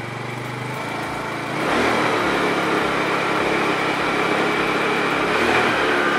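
A motorcycle engine fitted with a Koso digital gauge idles, then revs up and holds at a higher, steady drone, loud and close with a rough buzzing tone.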